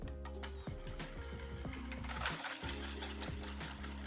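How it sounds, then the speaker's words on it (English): Ricotta cheesecake batter whisked in a bowl gives quiet, close, rapid clicking strokes in a steady rhythm, over a faint background hum. "And then just give this a really good whisk."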